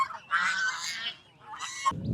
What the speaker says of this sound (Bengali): দেখেন হাঁস কি পরিমাণ